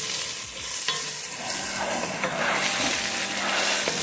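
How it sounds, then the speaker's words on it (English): Sautéed parsnips and onions are stirred together in a pot, a steady scraping and stirring over a continuous sizzle of frying vegetables, close and moderately loud, with no talking. "Just kind of stir them around and mix it up because we're fixing to add the broth."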